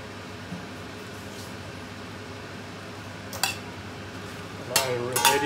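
Chinese cabbage and mushrooms are stir-fried in a pan, with a steady low sizzle and quiet scraping, then a few sharp clinks of a utensil against the pan near the end.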